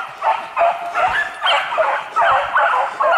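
A dog barks in a rapid run of sharp, repeated barks through the whole stretch, fairly close and loud, with an eager, excited edge.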